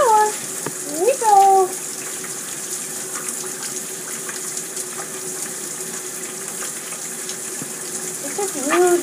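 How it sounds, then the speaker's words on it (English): Shower water runs in a steady, even hiss throughout, heard indoors with a few brief vocal sounds over it. "Nico, you can't get in the shower"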